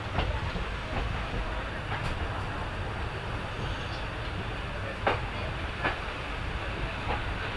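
An intercity train rolls into Guna Junction platform, a steady loud rumble of wagons with faint rhythmic clicks and occasional squeals, heard from on board with no talk.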